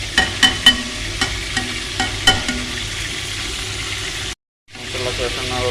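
Masala for chicken curry fries in a pan with a steady close sizzle, punctuated by several sharp spatula clinks and scrapes of stirring near the start, then continuing hiss after a brief dropout.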